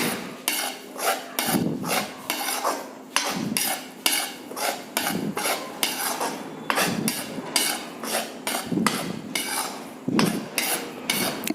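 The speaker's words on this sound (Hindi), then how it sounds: "बेसन को चलाना ना छोड़े वरना बेसन नीचे लग जाएगा।" Gram flour (besan) roasting in ghee is stirred in a pan for laddoos, making rhythmic scraping strokes of a spoon against the metal. The strokes repeat steadily and close up, with no talk.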